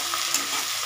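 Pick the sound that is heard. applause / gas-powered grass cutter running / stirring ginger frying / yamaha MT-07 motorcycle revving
stirring ginger frying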